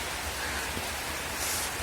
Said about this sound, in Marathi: हे पहा ना पाऊस किती येऊ राहिला